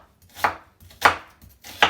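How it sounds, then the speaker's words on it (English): A knife chopping onion on a board for bitter leaves with dried fish, three crisp, evenly spaced cuts close by with quiet pauses between, no talking. "I'm just chopping it because I have to cook the green with it, and I need enough onion for the green."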